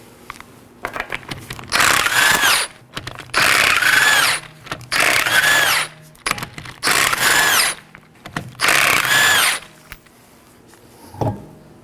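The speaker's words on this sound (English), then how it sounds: "Now let's go ahead and remove our left rear wheel. There's 5 19mm lug nuts." An impact tool removes the five 19mm lug nuts from the left rear wheel of a 2019-2024 Chevrolet Equinox, five loud close bursts of whirring hammering separated by short pauses, then a faint clink at the end.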